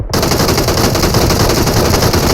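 Continuous rapid video game gunfire from an upper floor, loud and dense, a sustained burst of automatic shots.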